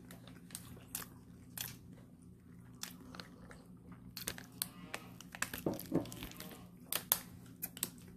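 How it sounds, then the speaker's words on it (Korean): Someone bites into white sandwich bread from a bakery and chews it, with soft crunching and repeated mouth noises close to the listener over a low steady background hum. "식빵을 먹어보겠습니다."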